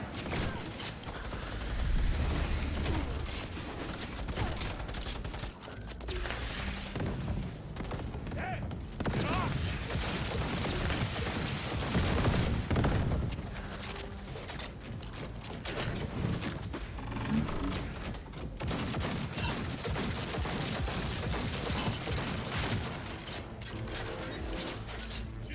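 Gunfire and combat action in the video game Cyberpunk 2077, dense overlapping shots and mechanical clatter running continuously over a busy game soundtrack.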